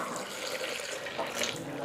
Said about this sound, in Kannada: ಸೊ ನೀರು ಹಾಕ್ಕೋಬೋದು.